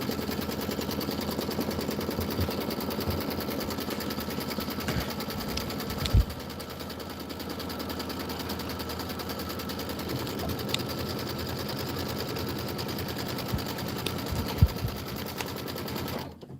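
An embroidery sewing machine stitches a placement line in a rapid, continuous mechanical chatter, close and steady, with a couple of brief clunks partway through and the needle stopping at the end.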